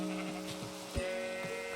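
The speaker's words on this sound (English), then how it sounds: "So many sheep." Sheep in the video game Minecraft bleat in short, scattered calls over a steady background of sustained musical tones, with no talk.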